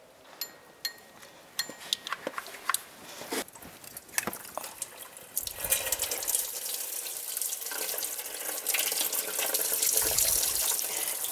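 Coolant drains from the heater hoses of a 2007-18 Jeep Wrangler into a catch basin. Scattered clicks and knocks come first, then a steady, close splashing pour of liquid builds and continues to the end.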